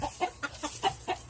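A hatch muff gamefowl hen clucks nearby in a quick run of about six short, evenly spaced clucks, clear and alone with no talking.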